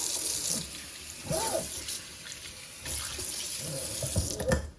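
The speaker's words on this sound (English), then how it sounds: "Now we're just gonna give this a quick rinse." Water runs steadily from a tap as a bong is rinsed, a continuous hissing splash with faint shifting knocks and sloshes, fairly close.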